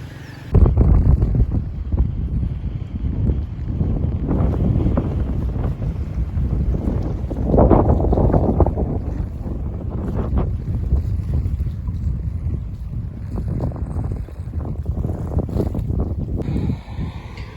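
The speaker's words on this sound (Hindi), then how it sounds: "बारिश तेज हो गई है।" Gusty wind buffets the microphone with a rough, steady roar near a flooded bridge at Mirpur during heavy rain, loud and continuous with surging rushes of rushing air and water.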